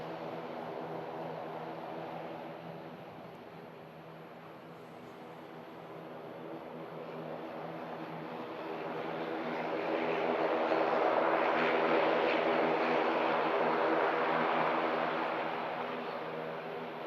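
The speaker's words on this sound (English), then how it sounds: "Beautiful ATR arriving in from the Isle of Man." An ATR turboprop airliner arriving from the Isle of Man at Manchester Airport, its propeller drone steady and moderately distant, swelling louder in the second half as it draws nearer, with no talk.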